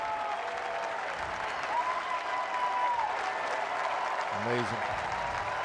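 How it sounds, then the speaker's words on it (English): A baseball stadium crowd at a Pirates home game cheers and applauds pitcher Paul Skenes after a strong scoreless outing, a broad steady roar under a broadcaster's commentary with brief crowd noises. "Stand up at home too. Give him a round of applause."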